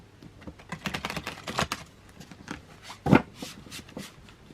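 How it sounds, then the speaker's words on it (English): Tarot cards riffle and slap together in a string of quick, crisp shuffles, close by, with one sharper snap partway through and no talking. "So let's just see how this shuffles"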